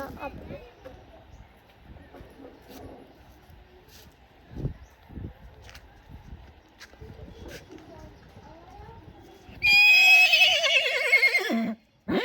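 A horse whinnies loudly near the end, a shrill, wavering call following quieter background noise and scattered thumps.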